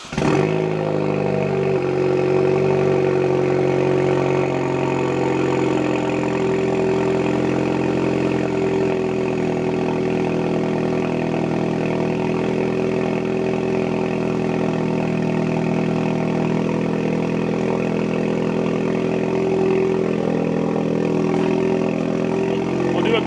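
A Ford Focus ST with a newly fitted exhaust idles steadily, its loud, close engine drone holding an even, continuous tone throughout with no talk over it.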